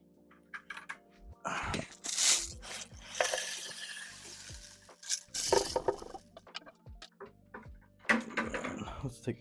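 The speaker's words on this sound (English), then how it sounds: "we're gonna go ahead and pour this in there real quick." Gravel pours in several bursts into a glass aquarium, rattling and hissing against the glass, separated by quieter pauses with light clinks.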